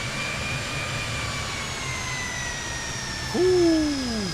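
Fokker F28 jet engines in a flight simulator hold a steady whine with a sustained high tone, then briefly rev up near the end with a rising, swelling pitch, loud and continuous without talk.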